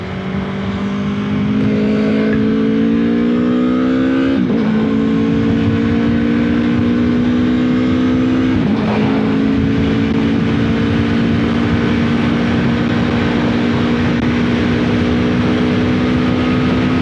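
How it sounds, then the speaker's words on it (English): Steady loud Aprilia Tuono V4 motorcycle engine drone with a rising pitch, dropping briefly twice as gears shift, mixed with constant wind rush at highway speed. "this bike sounds amazing"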